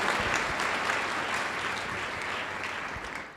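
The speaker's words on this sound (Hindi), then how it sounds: "यीशु मसीह के नाम में ताली बजाकर थैंक्स करो परमेश्वर का" A church congregation in a Hindi-language sermon breaks into applause, a dense, steady clatter of many hands clapping together, moderately close and fading slightly over a few seconds.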